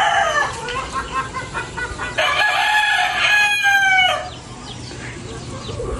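Several roosters crow one after another outdoors at daybreak, loud and fairly close, with hens clucking between the calls. The crowing overlaps in long drawn-out bursts before fading to quieter background clucks.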